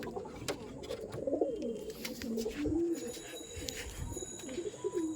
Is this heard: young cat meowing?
no